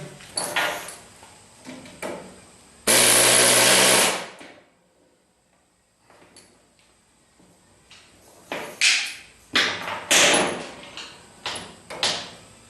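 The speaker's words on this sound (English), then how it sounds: "I'm ready for a little bit of air hammer action." A pneumatic air hammer works on car rear strut rods and shock mounts, rattling loudly in one sustained burst, then after a quiet pause firing several shorter, sharp bursts close by.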